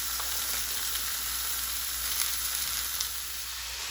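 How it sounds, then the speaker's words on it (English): Frozen ground beef thaws and fries in a pan, giving a steady close sizzle with faint crackles throughout and no voices. "we're gonna let these thaw and fry up in this pan"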